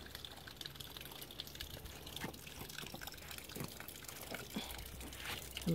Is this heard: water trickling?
yes